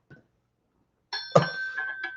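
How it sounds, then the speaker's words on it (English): A small bell called the Bell of Purpose is struck once after a faint tap, giving a bright ringing tone that sustains and fades over about a second. "That's a bell, the Bell of Purpose."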